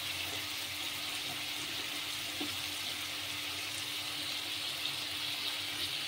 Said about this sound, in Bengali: একটু জল দিয়ে এবার এটাকে ঢেকে দেবো।